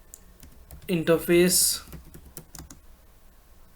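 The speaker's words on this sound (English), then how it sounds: "now I will start typing the commands." Commands typed on a computer keyboard while configuring a Cisco network interface, a run of light clicking keystrokes alongside a brief spoken word.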